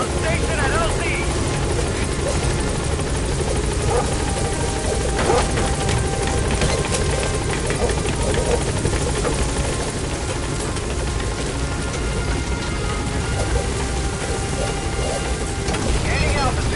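A helicopter arrives at a landing zone in the video game The Phantom Pain, its loud, steady rotor and engine roar filling the whole scene without easing.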